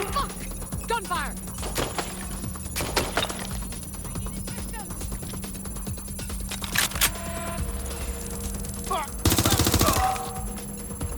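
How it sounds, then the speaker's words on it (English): Rapid bursts of gunfire in the video game Watch Dogs: Legion crackle repeatedly over a busy background with voices, ending in a loud sustained burst near the end. "Gunfire!"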